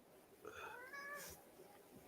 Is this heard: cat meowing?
yes